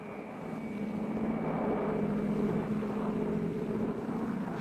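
Massed helicopters sweeping overhead in a large air-mobile assault over a Vietnamese province, a steady, heavy rotor-and-engine drone with a dull throbbing, broad and sustained with no speech.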